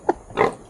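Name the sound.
pig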